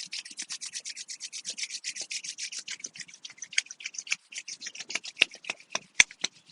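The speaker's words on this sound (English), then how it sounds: "And rub your hands together." Hands rubbed briskly together during a guided meditation, a quick steady run of dry skin-on-skin swishes that holds close and alone for several seconds, easing to a few sharper separate strokes near the end.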